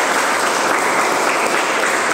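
Dense, loud applause from a room of pharmacy students in a classroom lecture, continuous clapping without pause, with no talking over it.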